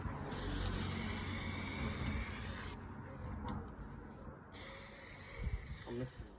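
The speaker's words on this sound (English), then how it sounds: "we're about to give it a spray" Steady, continuous hiss of an aerosol spray can painting the front grille of a 2013 Seat Ibiza, running in long bursts with a short pause and quieter stretch in the middle, close by.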